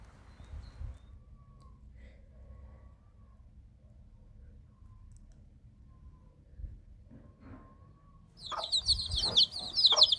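A broody hen with chicks clucks softly at first amid quiet background noise, then a burst of louder, higher-pitched clucking and chirping erupts near the end.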